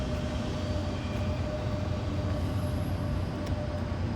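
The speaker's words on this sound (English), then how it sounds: "There's the train." A train passing through a small town, a steady low rumble and roar that stays constant and moderately loud throughout, with no voices.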